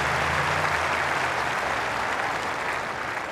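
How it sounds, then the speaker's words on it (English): A clay-court tennis crowd at a Monte Carlo semifinal bursts into sustained, dense applause after a long rally, steady and loud throughout without talk. "Crowd that have seen great clay court tennis here over the years and really appreciating this."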